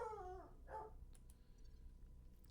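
A dog lets out a couple of brief, high yelping barks at the start, close by and fairly clear, followed by quiet room background.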